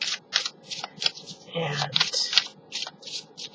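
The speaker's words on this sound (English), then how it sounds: "So here I go, shuffling." Tarot cards are shuffled by hand in a series of quick crisp riffles and slaps, close and fairly quiet, in short irregular bursts with a single spoken word partway through.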